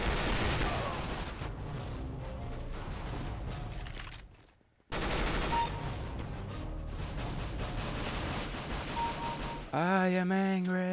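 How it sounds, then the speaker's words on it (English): Gunfire from a big gun in Counter-Strike: Global Offensive, loud dense bursts of rapid shots that break off into a brief silence, resume, then give way to a tonal in-game effect near the end. "time to shoot you with my big gun"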